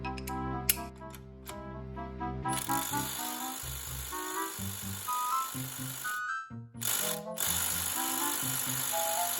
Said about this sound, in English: I'm actually gonna try the 65 pound-foot torque stick, and we'll see if it's accurate.